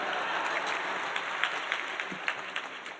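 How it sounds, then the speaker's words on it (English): Audience applause at a law school's 125th anniversary gala, a dense steady patter of many hands clapping in a hall, fairly near and fading slightly toward the end. "Yeah, now that should get some applause."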